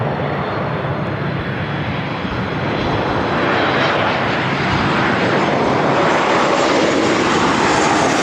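Air Canada Boeing 737 MAX 8 arriving from Vancouver at LAX, a loud, broad, continuous jet roar that grows slightly as the plane comes close.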